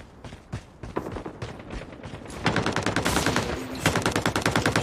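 Gunfire in a Call of Duty 10 vs 10 multiplayer match, scattered shots at first, then dense rapid automatic bursts growing louder and closer.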